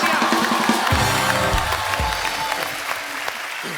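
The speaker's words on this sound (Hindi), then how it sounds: "एक तो ब्रावो रवीना जी के लिए जोरदार तालियां" A studio audience on a Hindi TV comedy talk show claps loudly in a sustained burst, with a brief voice and a few cheers mixed in as the applause carries on.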